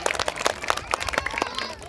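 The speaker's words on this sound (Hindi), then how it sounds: "जोरदार ताली बजाकर के स्वागत करें" An audience claps enthusiastically to welcome a guest at a birthday commemoration event, producing dense, irregular hand claps close by that continue throughout.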